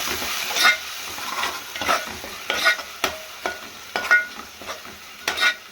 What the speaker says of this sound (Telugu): రెండు స్పూన్లు టమాటా పేస్ట్ ఇది కొంచెం వేగనిద్దాం